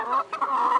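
Hens on a farm cluck in a short run of bursts, close and fairly loud, with no talk over them.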